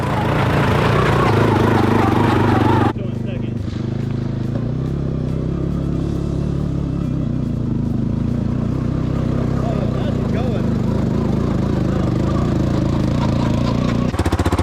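Honda Fourtrax 300 6x6 ATV engine running with a weird noise, a loud steady rumble that drops in level after a few seconds and then idles on, with someone talking over it.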